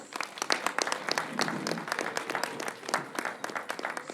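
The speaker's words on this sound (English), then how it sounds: "Can we please give her another round of applause?" Audience applause at a Congolese independence day celebration, a lively room of clapping hands with crisp individual claps standing out, steady and fairly close, no talk over it.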